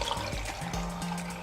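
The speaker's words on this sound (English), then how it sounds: "I'm going to add this water" Water being poured into a small blender holding chopped onion and garlic, a short close trickle and gurgle with a thin rising tone as the jar fills.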